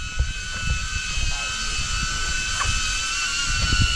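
A DJI Avata 1 FPV drone flies nearby with a loud, steady high-pitched propeller whine that holds a constant tone throughout, while low rumbles and handling noises sit underneath.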